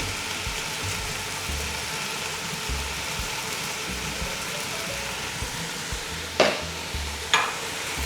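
Ampalaya seasoned with fish sauce and salt sizzles in a pan as it is stir-fried, a steady frying hiss under low rumbling, with two louder scrapes of the utensil near the end; no one speaks.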